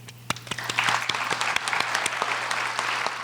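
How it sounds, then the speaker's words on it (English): A smaller crowd applauds nursing graduates at a candle lighting ceremony. The claps are distinct and uneven, some sharp and close, over a low steady hum, and no one speaks. "Applaud them."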